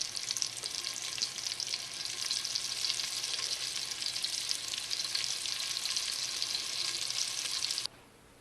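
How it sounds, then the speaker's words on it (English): Chunks of snapping turtle meat coated in Cajun fish breading fry in bacon grease with a loud, continuous crackling sizzle that stops abruptly near the end. "I'm just going to drop these chunks of turtle meat that have been breaded with Andy's Cajun fish breading down into the bacon grease"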